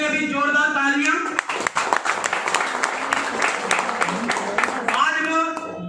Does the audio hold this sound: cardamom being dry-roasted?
no